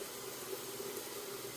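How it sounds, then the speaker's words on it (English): Hot water runs steadily from a bathroom sink tap before a shave, a faint, even hiss of flowing water with no speech. "I'm going to run just a little bit of hot water"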